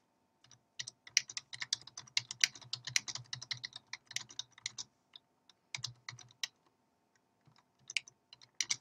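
Fingers type on a computer keyboard in quick bursts of clicking keystrokes with short pauses between, close and fairly quiet.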